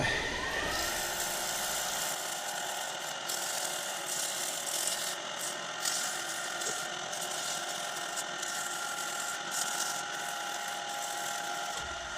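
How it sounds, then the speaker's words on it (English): Sandpaper presses against a spinning maple bowl on a woodturning lathe, producing a continuous loud whirring hiss with a steady motor whine throughout, with no talking. "Let's give it a little sand up."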